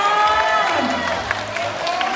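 Audience clapping and some cheering at a cotton-weaving workshop event in Ayutthaya, moderate and mixed with crowd voices and a higher tonal sound over it.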